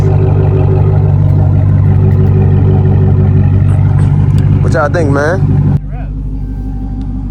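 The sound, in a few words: wrecked Dodge Challenger R/T engine revving with Porsche exhaust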